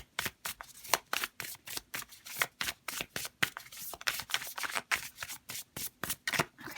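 Tarot cards shuffled and drawn by hand: a quick, steady run of crisp riffles and slaps repeating close up for several seconds, with no voices.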